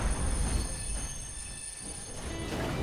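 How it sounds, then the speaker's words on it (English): Train wheels screeching in the Red Dead Redemption 2 video game, a loud sustained metallic squeal with rumbling rail noise underneath, steady throughout with no speech. "seeing trains in cinematic chases, with sparks flying everywhere, and that loud, exaggerated sound"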